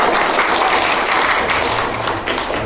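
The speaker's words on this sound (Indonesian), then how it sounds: "Tepuk tangannya meriah, Pak." Applause from an audience at a ministry education forum, dense and sustained clapping that fills the whole stretch at an even, fairly loud level.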